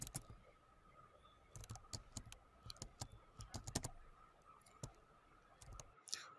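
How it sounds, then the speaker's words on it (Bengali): A computer keyboard is typed on in irregular bursts of crisp, quiet key clicks with short pauses between groups, close by and without talk. "রেজি নাম্বারটা আমরা এখান থেকে টাইপ করে দিচ্ছি"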